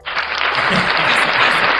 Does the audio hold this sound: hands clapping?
yes